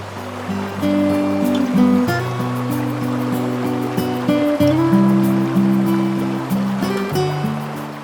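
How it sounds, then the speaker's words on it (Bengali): The Pala river runs full and fast in the monsoon near a hill village in North Bengal. Its steady rush sits under sustained background music. "বর্ষা বলে নদীতে কিন্তু প্রচুর জল রয়েছে এখন।"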